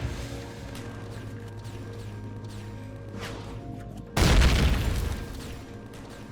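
Turrets fire in Empyrion, with distant muffled shots over a low mechanical hum and then one sudden heavy boom that rumbles and slowly fades.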